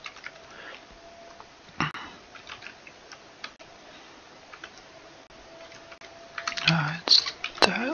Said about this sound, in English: a lot of the times when I'm typing in these countries, I just like to type them